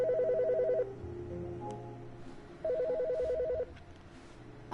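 Telephone in The Stanley Parable game rings twice, each a trilling electronic burst of about a second with a pause between, clear and close.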